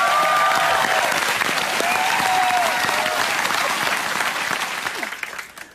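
Studio audience on an Australian TV music quiz show applauds loudly and steadily after a guest opera singer is introduced, the dense clapping fading toward the end.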